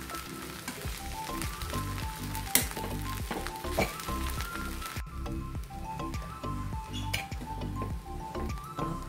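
Mixed vegetables for a one-pot veg pulao sauté in a pot with a steady, close sizzle, broken by scraping stirs and occasional clinks of the spoon against the pot; no one speaks.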